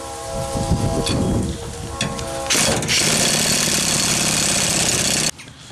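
An impact wrench presses studs into a vehicle axle during an axle and bearing replacement. It gives a loud, close, continuous mechanical rattle that grows more intense midway and then cuts off abruptly.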